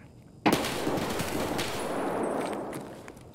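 In the video game Escape From Tarkov, a sudden loud burst of gunfire cracks out close by, followed by a sustained rattle and ringing echo that fades slowly.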